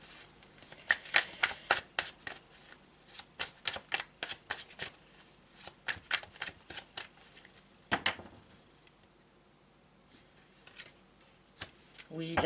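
Tarot de Marseille cards shuffled by hand, a rapid series of crisp riffling flutters in quick bursts, close and quiet, with a short pause before a final riffle.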